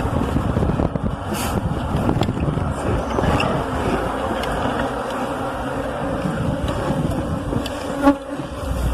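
Honeybees swarm around a hive in an apiary, a loud, steady, dense buzzing that fills the whole stretch, with a brief knock near the end.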